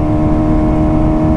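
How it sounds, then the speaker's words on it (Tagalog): A 2022 Kawasaki ZX6R, a liquid-cooled four-stroke motorcycle, runs its engine close by with a loud, steady, droning hum, alone without talk. "Narinig nyo ba yung tunog? Napakagandang pakinggan yung motor na to."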